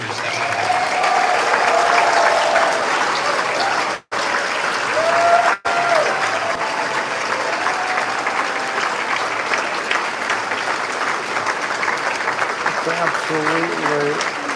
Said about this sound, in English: So please give a warm round of applause